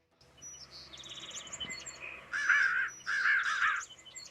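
A crow caws loudly in two close bursts of harsh calls, with smaller birds chirping faintly in the background beforehand.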